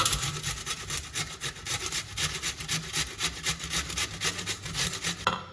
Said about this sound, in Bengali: সমস্ত আলুগুলো আমি এইভাবে গ্রেট করে নেব